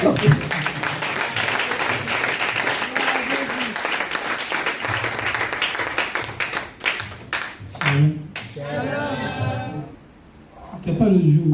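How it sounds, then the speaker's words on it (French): A church congregation applauds during a French worship service: dense, lively clapping fills the room for several seconds, then thins to scattered claps and a voice speaking near the end. "On peut applaudir."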